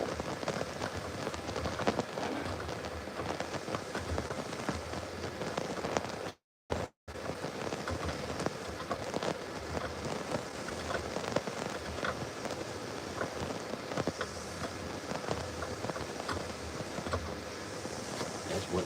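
Steady rain patters on a surface without a break, a dense, even hiss of drops with a brief dropout partway through.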